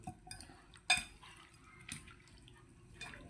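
Cucumber being mixed into fresh squid kinilaw in a bowl, soft wet squelches and a few light clinks of a utensil against the dish, close and quiet.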